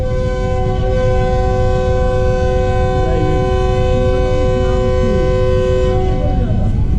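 Fareed Express passenger train running between Lahore and Kasur, a loud steady rumble of wheels and engine heard from the first coach, with a sustained multi-tone horn blaring across most of the stretch and a voice talking briefly.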